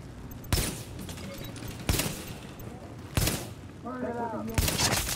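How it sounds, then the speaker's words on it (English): Sniper gunfire in the video game The Division: four sharp, loud shots spaced roughly 1.3 seconds apart, with a voice speaking briefly between the last two. "The sniper shoots me."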